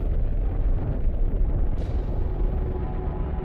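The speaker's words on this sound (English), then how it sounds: "This is a gamma-ray burst, the biggest explosion to rock the universe since the Big Bang." Gamma-ray burst explosion rendered as a sound effect: a sustained deep rumbling roar, loud and continuous, with a brief brighter flare partway through and another at the end, no talking.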